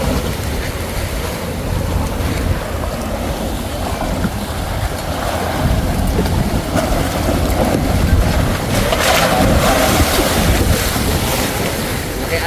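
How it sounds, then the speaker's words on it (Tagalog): Ocean waves wash steadily around a small fishing boat at sea in the West Philippine Sea, with strong wind buffeting the microphone and a louder surge of water near the end. "Okay, alon."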